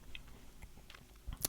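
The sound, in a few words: gum chewing, ASMR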